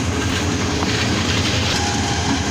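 A heavy train locomotive engine of the Kishoreganj Express rumbles steadily and loudly up close, a continuous low drone with no voices.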